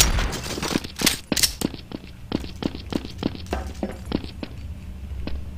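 Gunshots fired at windows in Counter-Strike: Source, a series of sharp, evenly spaced shots ringing out one after another, loud and close, with no talk over them.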